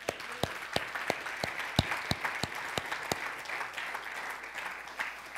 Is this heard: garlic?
no